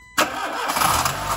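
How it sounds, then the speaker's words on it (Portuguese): A car engine with low fuel line pressure catches abruptly after a moment of silence and runs roughly at a steady mid-pitched idle, loud and close. "Carro pega, porém morre."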